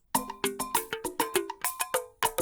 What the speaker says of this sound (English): this is the two talking drum now